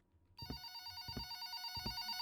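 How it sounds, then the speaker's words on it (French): Telephone ringing in a video game set in an apartment being cleaned, three bell-like rings repeating at an even pace over a steady electronic tone, fairly quiet and with no talking. "il y a le téléphone qui sonne"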